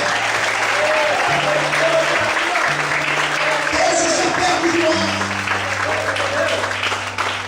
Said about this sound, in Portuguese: Você pode aplaudir e exaltar o Senhor.